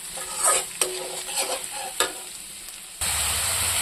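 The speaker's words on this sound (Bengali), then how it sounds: "এটা একটু ভাজবো, রসুনের গন্ধটা যাবে না" Garlic frying in a pan for a dry fish curry, with scraping stirring strokes and soft sizzling up close, then a louder steady sizzle bursting up near the end.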